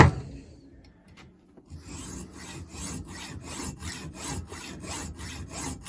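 A power hacksaw cuts metal for an old basin tap fitting, kept lubricated with WD-40. After a short quiet pause it settles into a steady, rhythmic back-and-forth rasp of even strokes, heard close and alone.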